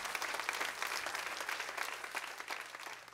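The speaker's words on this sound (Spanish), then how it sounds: "Ahí va un aplauso, ahí va un aplauso." Steady, dense applause from a church congregation during a sermon, sustained throughout at moderate level with no talk over it.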